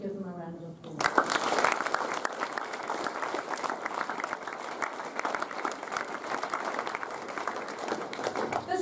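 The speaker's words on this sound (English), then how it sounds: "Can we give them a round of applause?" A large audience claps in a sustained round of applause at a school Year 10 prize-giving ceremony, starting suddenly after a brief spoken moment and continuing loud and steady to the end.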